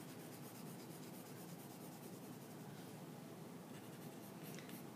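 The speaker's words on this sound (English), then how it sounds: "I'm still kind of curving my pencil strokes while I do this" A 4B graphite pencil shades a still life cylinder on paper in steady, continuous curving strokes, a soft even scratchy rasp that carries on without pause, close and fairly quiet.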